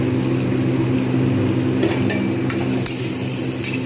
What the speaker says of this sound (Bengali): পেঁয়াজটা একটু লালচে করে আগে ভেজে নিই।